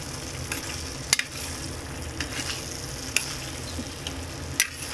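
Mapo tofu mixture being stirred in a frying pan for two servings, a steady close sizzle with a few sharp scrapes and clacks of the utensil against the pan.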